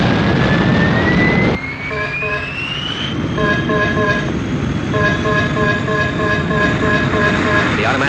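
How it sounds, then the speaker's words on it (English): Thunderbird 1, a rocket craft from the Thunderbirds puppet series, lifts off with a loud roaring engine and a rising whine, followed by steady tonal jet noise that keeps going to the end. "As soon as Thunderbird 1 takes off, start shooting."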